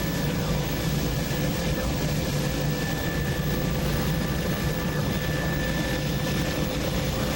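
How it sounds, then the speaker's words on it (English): Low-altitude survey aircraft at about 500 feet and 80 knots over a coastal barrier and lagoon, a steady, dense engine and rotor drone filling the cabin without pause, loud and unbroken throughout. "We're flying at about 500 feet and about 80 knots."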